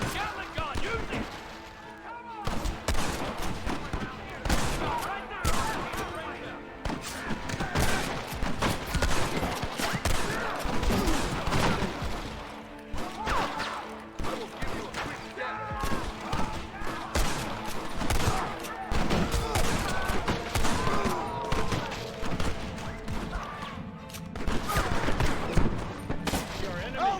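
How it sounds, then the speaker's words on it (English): A Gatling gun rattles in the Red Dead Redemption video game, dense rapid bursts of gunfire sustained across the whole stretch with scattered other shots, loud and busy, while voices occasionally shout over it. "We need more fire! Gatling gun, use it!"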